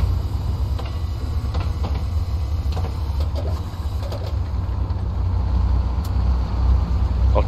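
A tank engine in the Hell Let Loose video game rumbles along steadily in low gear at Sainte-Marie-du-Mont, with a heavy, continuous low drone and faint clanking of tracks throughout, no voices.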